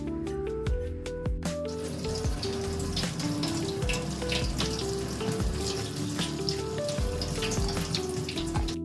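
Cut potato fingers for homemade French fries are rinsed under steady running tap water, a continuous splashing wash heard close up beneath background music.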